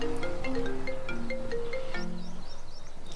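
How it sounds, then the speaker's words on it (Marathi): A mobile phone plays a repeating electronic ringtone melody with clear, steady notes, fairly close and without speech over it. "अबे त्या फोन वाजून राहिला पाय."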